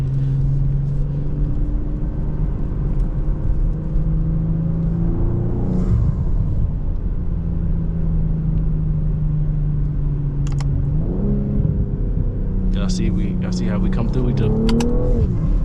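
A BMW M340i drives a long back road, its engine holding a steady droning rumble heard from inside the car, then rising as it accelerates and shifts; someone talks over it at times.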